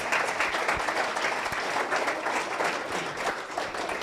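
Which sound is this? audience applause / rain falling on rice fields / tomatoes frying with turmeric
audience applause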